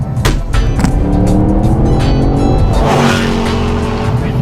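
A Chevrolet SS sedan driven hard, its engine roaring loud and close as the tires squeal and scrub continuously across the pavement.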